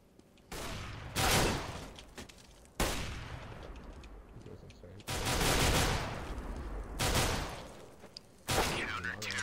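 P250 pistol shots in Counter-Strike, a handful of loud cracking bursts separated by brief pauses, dense with game noise and some talk.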